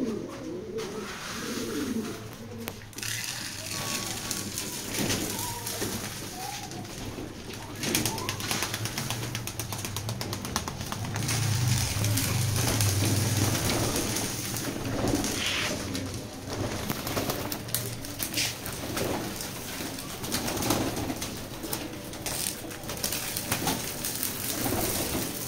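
Pigeons in a loft coo in an ongoing low chorus at feeding time, with scattered wing flutters and shuffling from many birds close by.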